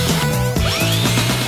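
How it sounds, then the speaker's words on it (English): A power drill boring pilot holes into a wooden dowel, a loud continuous whine with rising and falling pitch as the motor loads up, close and alone. "I'm drilling pilot holes in the dowel too"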